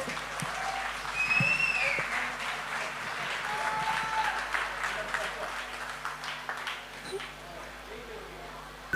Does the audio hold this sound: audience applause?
yes